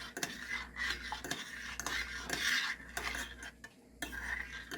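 Squash flour made from green striped cushaw squash is stirred into a mixture, with a utensil scraping and clinking against a bowl in irregular strokes, close and moderately quiet, with no voices.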